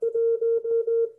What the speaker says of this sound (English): In the beginning, the first 5 digits start with a dit, then 2 dits, then 3 dits, then 4 dits, then 5 dits.